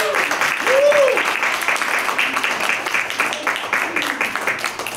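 Audience applause at a TEDx community event honoring talk recipients, a full clapping crowd that swells early then tapers slightly, with a voice briefly heard over it.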